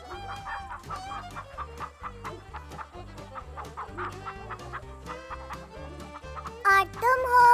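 Chickens cluck busily in a steady, overlapping stream, with a rooster's louder call near the end, heard in a Hindi-dubbed family movie.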